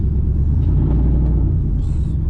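A steady low engine rumble from a car idling nearby, deep and continuous, with a faint brief high tone near the end.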